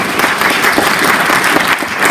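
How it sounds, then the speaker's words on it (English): Loud, dense clapping from a crowd at a state art show, close and sustained for a couple of seconds with no pauses. "everybody clap their hands"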